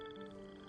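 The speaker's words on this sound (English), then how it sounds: "Singing frogs, yep." Singing frogs in the Genshin Impact video game, heard as a brief, steady tonal croak with sustained harmonic notes, lasting under a second at low volume.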